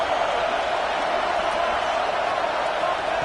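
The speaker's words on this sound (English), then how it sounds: "this crowd is fired up. Listen to this noise here." A stadium crowd in a college football video game roars steadily, a dense, continuous wash of cheering and noise with no break, loud and close throughout.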